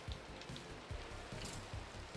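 Rain falling in the Minecraft video game, a steady soft patter with low thumps scattered through it, fairly quiet and with no talking.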